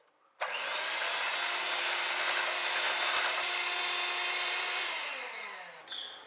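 An electric beater whirs steadily through a bowl of eggs, sugar and oil, switching on abruptly and running as one loud, continuous buzzing hum for about five seconds before winding down and stopping.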